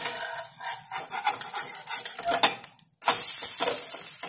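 A multigrain chilla pancake fries in ghee with soft sizzling and scraping as a spatula works under it, then a sharp flip brings a sudden louder burst of sizzle near the end.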